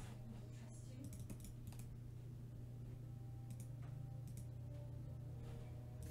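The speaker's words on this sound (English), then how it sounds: "That's all you have to type in." A computer keyboard typing a short command, with soft scattered key clicks under a steady low hum of background noise, fairly quiet and close.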